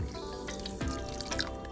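Water mixed with arrowroot flour pours over rice in a pot, a steady close splashing and trickling stream with faint dripping, continuous and fairly loud, no voices.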